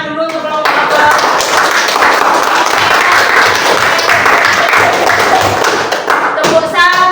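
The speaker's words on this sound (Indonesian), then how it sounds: "Beri tepuk tangan dulu untuk kelompok." Grade six primary-school class applauding a group of pupils, loud sustained clapping from many hands filling the room for several seconds, with voices briefly at start and end.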